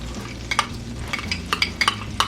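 Garlic fries in butter and oil in a pan, a close, steady sizzle punctuated by several crisp spoon clicks and scrapes as it is stirred.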